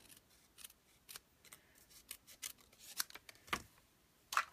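Scissors trim a handmade card in a quick series of crisp snips, uneven in spacing and fairly quiet, heard close with no talk.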